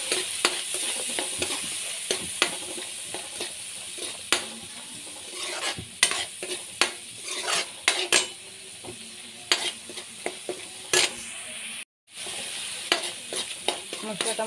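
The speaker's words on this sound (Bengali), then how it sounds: "মশলাটার উপর ভেজে নিই তারপরে দেবো" Spice masala sizzles in a pan while a spoon stirs it in scattered scrapes and taps against the metal, the frying hiss continuous beneath the irregular stirring, with a brief silent gap near the end.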